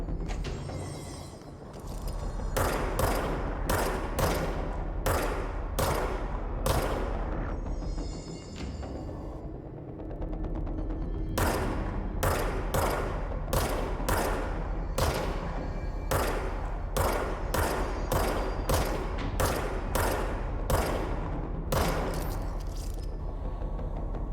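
Pistol fire in the video game Control, with single loud shots popping in steady bursts, a cluster early on, a short lull, then a long run of evenly spaced rounds over a constant low game hum.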